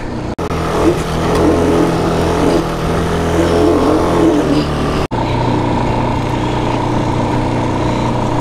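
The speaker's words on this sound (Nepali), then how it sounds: "अब हामीले चितलाङमा आएर चाहिँ क्वाड बाइक चलाउन लागेको छौँ" A quad bike's engine revs steadily and loudly throughout a ride at Chitlang, with a strong low drone, two brief dropouts, and a slightly lower, steadier pitch in the second half.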